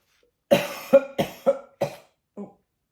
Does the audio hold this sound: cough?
yes